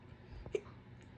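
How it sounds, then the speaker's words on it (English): A few short hiccups from a person who has the hiccups: two soft, isolated jerks about half a second apart, faint and close, with no talk. "I've just got the hiccups at the moment"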